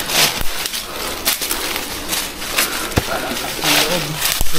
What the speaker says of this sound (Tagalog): Nag-iingay yung mga ibon.